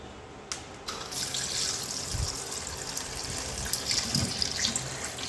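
Mutton pieces being washed under running tap water in a home kitchen sink, a steady close splashing flow with soft knocks and trickles, no one talking.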